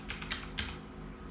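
Keystrokes from typing Python code on a computer keyboard, a few clear clicks close together at the start, then quieter soft tapping over a steady low background hum.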